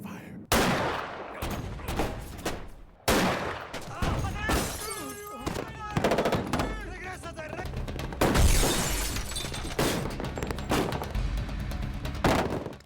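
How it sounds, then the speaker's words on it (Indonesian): A chaotic shootout at a port, with rapid overlapping gunshots, bursts of automatic fire and sharp shattering impacts that continue throughout, loud and close, mixed with music and effects. "Suasana pelabuhan menjadi kacau, tembakan terdengar silih berganti, dan Sonny sibuk menyerang musuh"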